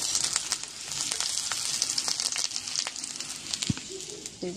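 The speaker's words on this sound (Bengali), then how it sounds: "আর একটাতে বসিয়ে দেবো আমি ভেন্ডি আলু ভাজা" Okra and potato frying in a pan, a close, even sizzle with scattered sharp crackles and pops and a few clattering knocks near the end.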